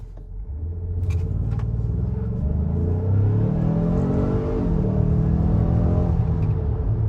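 Twin-turbo Ford Explorer SUV of nearly 5,000 pounds accelerating hard, a strong, rising engine roar with whirring turbo tone, heard from inside the cabin and continuous throughout.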